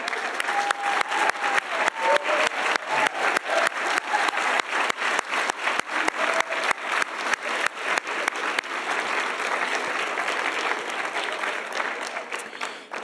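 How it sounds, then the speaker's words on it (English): Sustained audience applause at a women's awards ceremony, dense steady clapping from a large crowd that carries loudly and evenly throughout, fading slightly at the very end. "if you will join me in a round of applause to recognize and celebrate these distinguished leaders."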